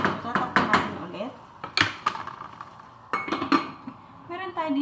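A metal lid is set onto a cooking pot of homemade tomato spaghetti sauce, giving a few sharp clanks and clinks among other kitchen knocks, with someone talking between them.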